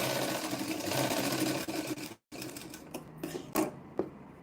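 Close, steady sewing machine stitching on a blouse shoulder cover. The rapid mechanical chatter runs continuously, breaks off briefly, then resumes in shorter bursts.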